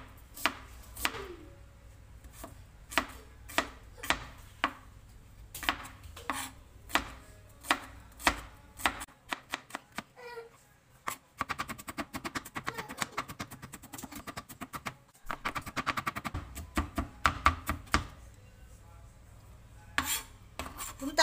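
An onion is chopped with a knife on a board during eggplant dish preparation, a rapid run of sharp, close knocks that shifts into denser, quicker chopping, with no talk.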